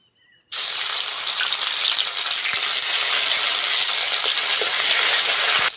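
Ginger-garlic paste dropped into a hot pan of burnt sugar bursts into a loud, steady sizzle that holds strong after a sudden start, with a few faint stirring clicks over the hiss.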